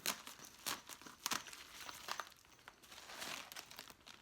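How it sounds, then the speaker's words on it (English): A plastic hardware bag holding zip ties, washers and bolts is opened up close, giving a quiet series of crinkling and tearing rustles in irregular bursts, with no talking. "So let's open up this hardware bag here"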